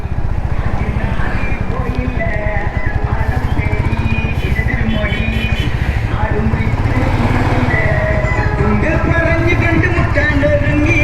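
A Royal Enfield Bullet 350 Black Gold motorcycle being ridden, its single-cylinder engine thumping in a loud, steady pulsing rhythm close to the microphone, with a rider speaking over it.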